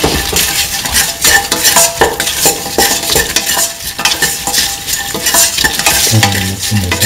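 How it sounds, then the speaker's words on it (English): Salt gets stirred through okra and winter melon sizzling in a pan, with a spoon scraping in quick irregular strokes over steady frying hiss, loud and close, no voices. "put in salt to taste, mix"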